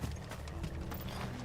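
Horses gallop in the video game Final Fantasy XVI, a steady run of quiet hoofbeats under a dense, faint game soundscape.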